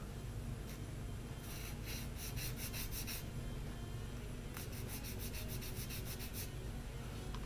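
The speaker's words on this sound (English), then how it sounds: "I just need to flatten the underside a bit on the sander" The underside of a Mitchell B-25 model kit part is rubbed on a sander, producing faint, soft scraping strokes that come in two short bursts over a steady low background hum.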